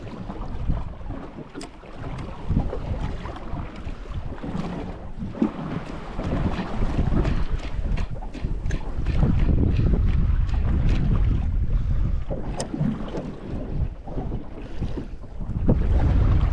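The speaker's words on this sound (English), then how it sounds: "Make a rough trip home back to the harbour, going into these waves." A fishing boat heads back toward harbour into rough offshore waves and strong wind, with heavy buffeting wind noise on the microphone, rushing water and thumping hull impacts over a continuous loud engine rumble.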